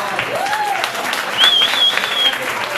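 Audience applause for the guitarist of a live band, a short burst of clapping with a whistle cutting through it.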